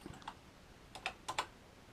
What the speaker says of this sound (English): Yep, looks like the keyboard's working